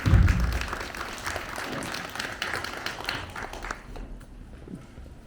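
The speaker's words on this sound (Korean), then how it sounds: "박수로 환영해 주시기 바랍니다." An audience claps to welcome a professor presenting at a local culture forum, a loud burst that settles into steady applause and then fades toward the end.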